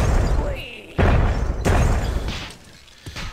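A dwarf grenade detonates in the fantasy strategy game Myth: The Fallen Lords, a sharp booming blast followed by further thuds and rumbling, loud and close.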